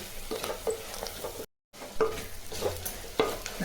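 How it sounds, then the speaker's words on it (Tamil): Small onions and garlic sizzle in a hot pan as they are stirred, a steady frying hiss with occasional scraping strokes, close and clear. "ஒரு 2 நிமிஷம் அப்படியே வதக்கி விடலாங்க."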